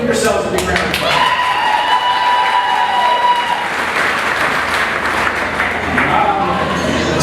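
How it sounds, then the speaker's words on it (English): A crowd at a 35th anniversary event for Camp Ronald McDonald for Good Times claps steadily in a room, a loud continuous wash of applause mixed with voices and cheering. "give yourselves a big round of applause"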